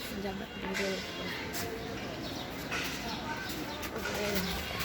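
Racing pigeons in a colony loft coo softly and repeatedly, with low bubbling calls close by under continuous speech.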